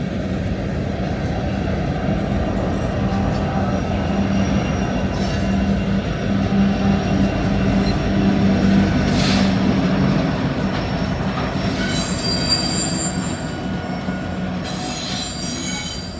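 BNSF freight train rolling past with loud, sustained metallic wheel squeal over a steady rumble of railcars, continuous and close with no voices.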